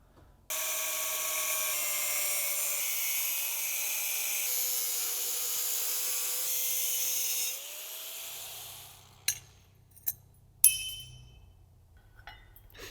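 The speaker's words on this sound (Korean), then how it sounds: "여기 한 방, 여기 한 방, 여기 한 방 그라인더로" A high-pitched grinder whines steadily against metal while fabricating an X-pipe exhaust for a 1000-horsepower Mustang, then slows and winds down, followed by a few sharp metallic clinks.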